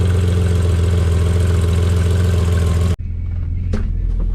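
A BMW E30 engine idles with rod knock, a steady loud running note that cuts sharply to a quieter, lower idle partway through, with a couple of brief clicks near the end and no talk.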